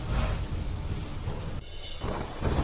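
Heavy downpour over Mumbai streets, a dense steady hiss of rain with a low rumble underneath, loud and continuous with a brief dip midway before the roar resumes.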